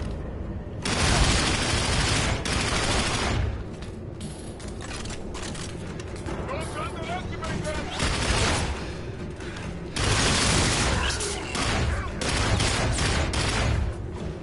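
Rapid, dense gunfire fills a close-quarters firefight in the Call of Duty: Infinite Warfare campaign, with loud overlapping bursts and booms sustained almost without pause from start to finish.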